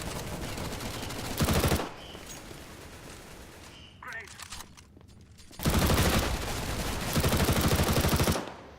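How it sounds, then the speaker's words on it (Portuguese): P90 and MP7 submachine gun fire in Counter-Strike: Global Offensive comes in three loud, rapid bursts with quieter gaps between them, while a voice can be heard faintly. "Você viu que não mudaram o barulho da P90, da MP7?"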